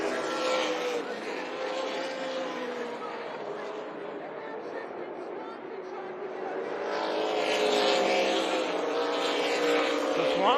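Race cars roaring around Tucson Speedway, a sustained loud engine drone with shifting pitch as cars pass, swelling louder toward the end, with a commentator talking over it.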